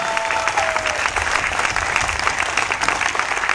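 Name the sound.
audience applause for Dr. Prem Kumar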